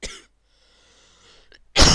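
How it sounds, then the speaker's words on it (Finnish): Two sharp coughs from one person, a short bark at the start and a louder, longer one at the end, separated by a near-silent pause with faint breathy noise. "Hetki kun yskittää."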